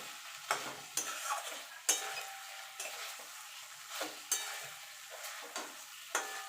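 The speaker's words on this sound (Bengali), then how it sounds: "এবার পনিরটা ভেজে রেখেছিলাম সেটা দিয়ে দেব দিয়ে ভালো করে মিশিয়ে নেব আলগা হাতে মেশাতে হবে" Fried paneer cubes being stirred by hand into a vegetarian paneer curry in a pan, with gentle scraping strokes repeating every second or so over a soft sizzle, close and fairly quiet, no talking.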